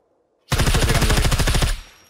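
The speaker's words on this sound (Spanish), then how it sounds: "Ahí le estoy disparando a alguien" A loud, close burst of rapid automatic fire in SCUM, a tight string of shots lasting just over a second after brief silence, then a ringing tail as it fades.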